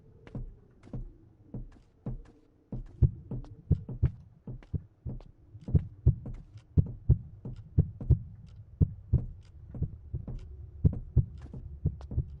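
A steady heartbeat from the Roblox game Blair pulses in repeated low double thumps that continue evenly for several seconds, alone with a faint hum underneath.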